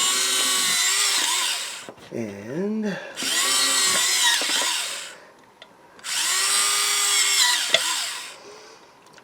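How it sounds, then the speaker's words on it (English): A power drill bores holes in three long whining bursts, each a loud steady high drone, separated by short pauses where the motor winds up and down, with a brief word spoken between. "I just go in and just start drilling holes."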